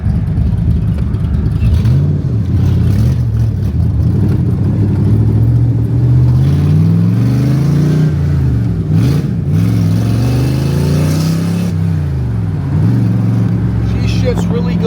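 A 1965 Shelby with manual transmission revs up loudly while driving, the engine pitch climbing and dropping through several gear shifts, close and continuous throughout.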